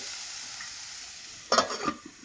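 Cabbage and moringa leaf poriyal is stir-fried in a pan, with a soft steady sizzle and then a brief burst of louder scraping and crackling near the end.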